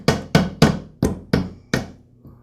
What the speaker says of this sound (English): And I'll tap this into position with a rubber mallet.